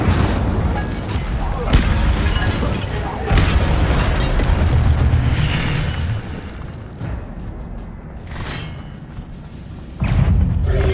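The Incendio fire spell is cast in the Hogwarts Legacy video game, bursting with booming whooshes over a loud, dense wash of combat effects, with voices mixed in.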